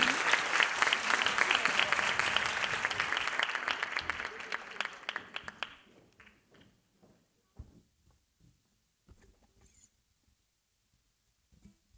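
An audience at a 2018 francophone song competition in Niš applauds a singer after her performance; dense clapping fills the first few seconds, then fades into scattered claps and quiet.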